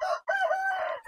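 A rooster on a farm crows once, a near, fairly loud call broken by a short catch, with no voices.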